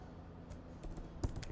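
Short bursts of keystrokes on a computer keyboard during Python Selenium coding work, a few soft clicks and a firmer cluster of taps near the end, fairly quiet with no talking.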